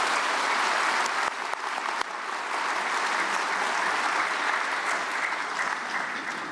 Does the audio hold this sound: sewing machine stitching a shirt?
no